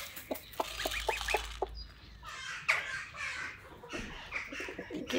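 Brahma hens cluck and squawk nearby in a farmyard alongside geese, giving a run of short rhythmic clucks, then scattered calls and rustling, faint and fairly close, with no one speaking.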